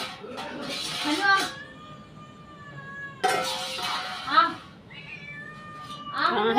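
A cat perched up high meows repeatedly, with several drawn-out, clear meows spaced across a few seconds, close and fairly loud against a quiet room.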